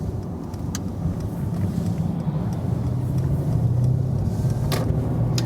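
A Mercedes C63 AMG Coupé with sports exhaust accelerates, its deep engine rumble building steadily under road noise from inside the car, with no talking.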